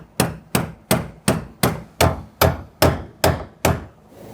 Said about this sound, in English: we're going to use a hammer and a brass punch